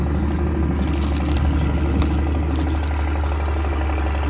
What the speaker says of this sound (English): He likes the sound of his tractor now, it roars.